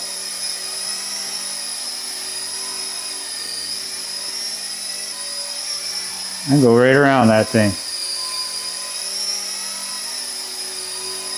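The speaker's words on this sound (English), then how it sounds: "You can hear must be the rear blade making a noise." A toy helicopter's steady high-pitched whine from its rear rotor blade runs throughout, briefly interrupted by someone speaking in the middle.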